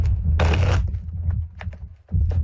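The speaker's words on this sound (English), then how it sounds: "Not very interesting, is it, just listening to me shuffle cards?" Playing cards being shuffled close by, one dense riffling burst followed by lighter card taps and flicks, with a low hum underneath.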